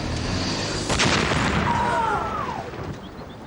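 A hand grenade thrown at Reinhard Heydrich's slowed car during an ambush goes off as a single sharp blast, followed by a rumbling tail and a faint whistling sweep in a continuous background.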